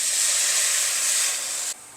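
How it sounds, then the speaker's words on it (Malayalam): Hot water is poured into gooseberry pickle, giving a loud, steady hissing rush for nearly two seconds before it cuts off abruptly into a quieter tail. "ഇതിനകത്തേക്ക് ഞാൻ കുറച്ച് ചൂടുവെള്ളമാണ് ഒഴിക്കുന്നത്"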